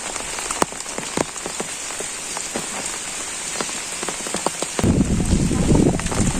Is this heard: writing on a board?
no